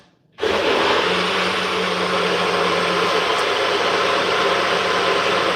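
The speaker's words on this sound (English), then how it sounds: "Can you hear the blender?" A NutriBullet blender runs loud and close, kicking on abruptly and holding a steady high-pitched motor whine without a break.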